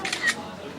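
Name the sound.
camera shutter taking a photo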